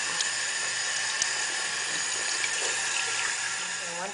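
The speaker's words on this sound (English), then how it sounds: "Just turn the water on." Water rushes steadily into a toilet tank after a new fill valve is fitted, a continuous hissing flow with a faint rising tone near the end, close and even throughout with no talk.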